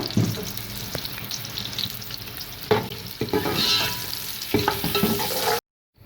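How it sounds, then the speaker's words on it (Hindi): Onions sizzle and crackle as they fry in hot oil, with stirring and scraping noises on and off, close up and without speech. "उसमें ये प्याज डाल देंगे और प्याज को करेंगे अच्छी तरीके से फ्राई।"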